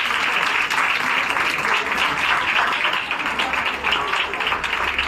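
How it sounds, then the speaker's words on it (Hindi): A church anniversary congregation applauding loudly and continuously, a dense wash of clapping that holds steady throughout. "जोर से ताली बजाएं, जोर से ताली बजाएं।"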